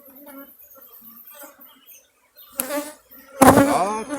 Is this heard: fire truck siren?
no